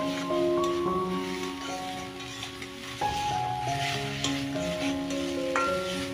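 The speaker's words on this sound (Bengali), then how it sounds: "আর এই যে লাউ সেদ্ধ জলটা দিয়ে আমি মশলাটাকে কিছুক্ষণ কষে নেব।" Spice paste frying in a pan with water from boiled bottle gourd, for a rohu fish-head and bottle gourd curry: a steady hiss and sizzle running beneath melodic background music.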